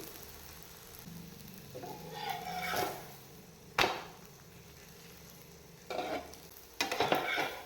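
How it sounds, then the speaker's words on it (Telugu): A paneer paratha roll roasts on a hot pan with a faint, continuous sizzle, broken by occasional scrapes and pressing taps of a spatula that come in short bursts, with no voice over it. "ఇంతే ఇంతే కాల్చుకోవాలి మరీ మాడిపోయేటట్టు కాలవద్దు"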